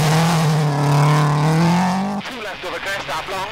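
A World Rally car driven fast on a gravel test stage, engine droning loud and steady at high revs before cutting abruptly to a rougher, scrabbling burst of engine and tyre noise.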